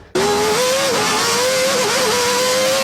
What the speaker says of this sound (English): I have this sound in my head of the car roaring and going through Monaco streets